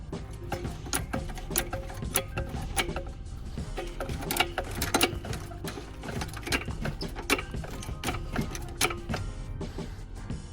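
A trolley jack is pumped to raise the front hub of an Alfa Romeo Giulietta during a front spring replacement, giving a steady run of close mechanical clicks and ratcheting knocks with no talk.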